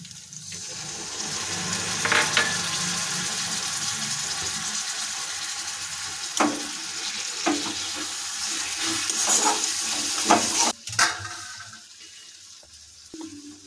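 Chicken with turmeric and chilli powder sizzles in a wok after a little water is added, for a Bengali chicken and cauliflower kosha, a steady close bubbling hiss broken by scattered clinks and scrapes from stirring.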